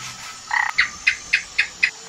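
A frog in an animated jungle croaks in a steady rhythm: a short opening burst followed by five evenly spaced, clear croaks, fairly loud against a quiet background.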